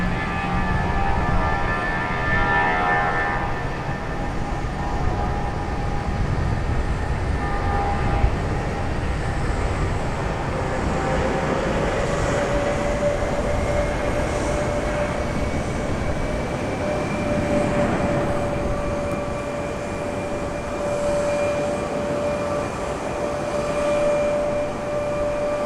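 JetBlue Mint livery jet departing Raleigh Durham airport through water spray, a steady, loud broadband roar with sustained whining tones that shift slowly as the aircraft accelerates away.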